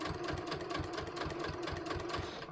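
Sewing machine stitching a welt pocket just inside the stay stitching, a steady, close mechanical whir with a fast, even needle rhythm throughout, no voices.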